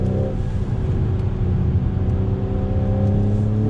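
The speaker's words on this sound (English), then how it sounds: "You can hear how it's holding on to that gear so I could have quick acceleration." A 2021 Acura TLX in sport mode holds a gear, its engine droning steadily at sustained high revs with a low, even hum and faint road noise, loud and continuous without talk.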